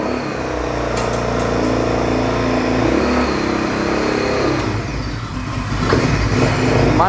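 An off-road ATV sports bike engine revs loudly up close while being ridden, its tone climbing and falling through several throttle blips with no talk over it.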